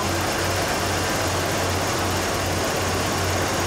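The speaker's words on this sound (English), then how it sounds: "That's why it's idling high, because of the brake booster." The engine of a Ford Bullnose pickup truck idles high because of a brake booster problem, a loud steady drone with a constant low hum and no break in level, heard alone without talk.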